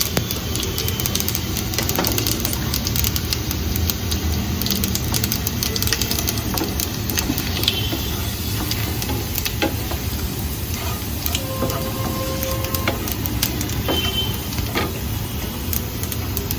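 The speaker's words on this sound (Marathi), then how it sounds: "आता हे सगळं छानपैकी फ्राय व्हायला ठेवलंय आपण इथे" Spices and turmeric frying in a pan, a steady close sizzle with occasional light pops and spoon scrapes running throughout, with no talking.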